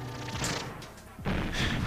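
A proximity mine goes off in GoldenEye 007 on the Nintendo 64, a sudden broadband blast bursting in about halfway through over continuous game noise, with a fainter crash just before it.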